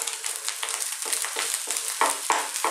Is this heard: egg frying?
yes